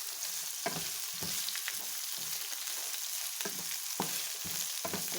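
Mung beans with radish and cauliflower frying in a pan give a steady close sizzle, broken by several short bursts of stirring, with no voices.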